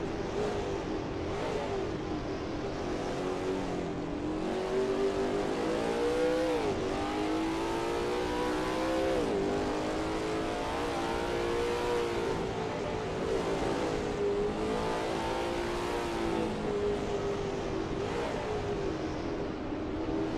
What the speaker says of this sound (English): Malero is expertly commanding that car through Gendebien Bend